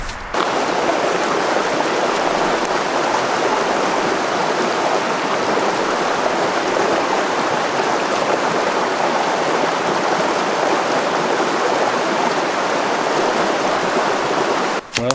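Creek water flowing steadily in a natural woodland setting, a dense, continuous rushing wash close by that stays even in loudness throughout with no talking.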